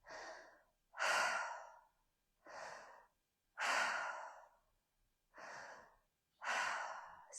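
Slow breathwork, drawing air in and out through the mouth: six close, loud breaths alternating between inhales and longer exhales, each separated by a brief silence, at a steady, unhurried pace.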